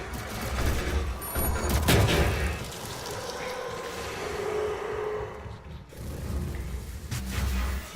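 Triple shot weapon fire in the Doom SnapMap video game, with dense booming blasts and mechanical clatter in a continuous loud barrage, a short gap near the six-second mark.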